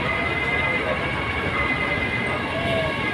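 A wailing fire truck siren rises and falls over steady, dense traffic and crowd noise at a fire at Landers, with voices faintly mixed in throughout.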